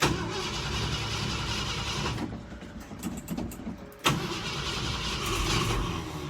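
A Ford F100 pickup turns over in the cold with its choke off. The starter cranks for a stretch, the engine stumbles, and then it catches with a sudden burst and settles into a loud, steady idle.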